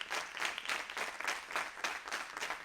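An audience gives fairly faint applause in rhythmic bursts of clapping that rise and fall steadily throughout.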